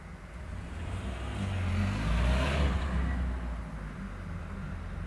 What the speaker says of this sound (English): this is clearly an area where saddos like to come and hang out in cars that have really loud engines